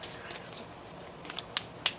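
A deck of cards is shuffled during a tarot-style reading, a soft riffle followed by a few crisp snaps of the cards toward the end, quiet and close.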